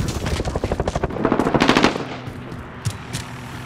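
Rapid automatic gunfire from a Call of Duty: Modern Warfare (2019) multiplayer match, a loud bursting rattle of shots followed by a few sparse, quieter single shots and background game ambience.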